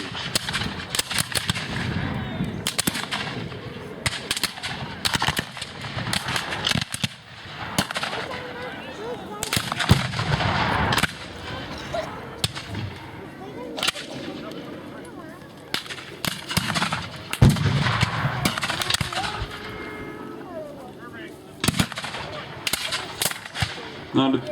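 Carbines fire in irregular volleys and scattered sharp cracks from dismounted Confederate cavalry at a Civil War reenactment of the Battle of Chickasaw Bayou. The shots are loud and repeated throughout, with some faint voices between them.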